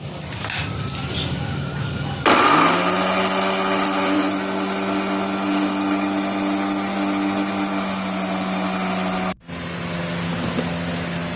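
A mixer grinder grinds poppy seed paste with a loud steady electric whir that starts after a short spell of handling noise. It runs evenly, cuts out abruptly for a moment, then starts up again.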